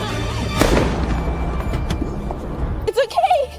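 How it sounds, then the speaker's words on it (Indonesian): A loud pistol gunshot booms in a film scene, a single sharp blast early on with rumbling decay, followed by a brief voice. "mendengar suara ledakan pistol"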